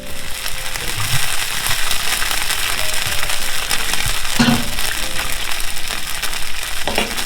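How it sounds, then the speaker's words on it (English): General Tso sauce broth thickened with cornstarch bubbles and simmers in a pan, a loud, continuous crackling sizzle with small pops throughout, close up and without talk. "And just let it slowly simmer until this broth gets thickened."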